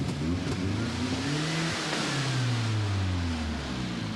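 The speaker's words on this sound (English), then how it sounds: "Go on, rev it up again." A car engine revs after a valve regrind, loud and close, a continuous mid-pitched roar that climbs and falls through a couple of throttle blips and holds steady throughout.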